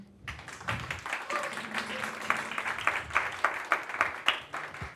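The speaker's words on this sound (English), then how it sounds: "a round of applause for Samuel" A conference audience at AHOY! 2025 applauds steadily as a speaker is introduced, a dense, moderately loud patter of many hands lasting several seconds with no talking over it.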